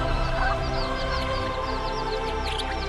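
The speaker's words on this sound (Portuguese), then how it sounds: "Em uma vila, Moisés e os hebreus observam as aves reunidas no chão." Birds gathered on the ground in a biblical film scene in a village with Moses and the Hebrews, a dense continuous chatter of honking and clucking fowl over a loud droning orchestral score.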